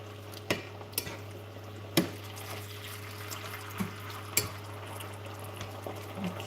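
Water being brought to a boil in a pot while cooking mapo tofu, a steady low bubbling simmer with occasional soft clinks and splashes, heard alone without talk.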